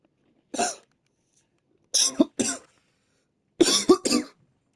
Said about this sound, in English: Don't mind the coughing.